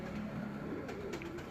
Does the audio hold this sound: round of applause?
no